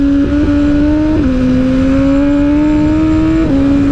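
A Suzuki GSXR motorcycle ridden on a circuit holds a loud, steady engine drone with small pitch shifts as the throttle changes, close and continuous, no speech.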